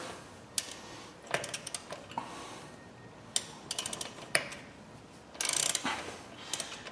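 A wrench works loose a swollen lug nut on a Ford F150 wheel, giving a series of irregular metallic ratcheting clicks and scraping bursts, close up and moderately loud with brief pauses between turns.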